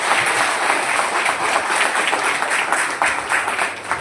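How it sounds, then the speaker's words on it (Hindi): An audience at a Raipur employees' association meeting and felicitation ceremony applauds loudly, with dense sustained clapping that holds steady for several seconds and carries no speech. "जोरदार तालियां।"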